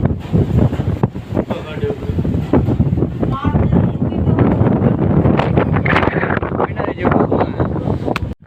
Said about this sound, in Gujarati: કેટલો પવન આવે જો તમે